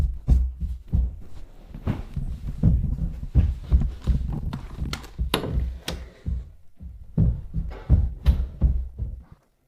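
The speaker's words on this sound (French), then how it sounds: "Megan dit qu'elle entend quelque chose. Ça ressemble à quoi? Des bruits de pas" Footsteps in a horror video game, a steady run of thudding, clip-clop-like steps that carries on for most of the stretch and then stops abruptly near the end.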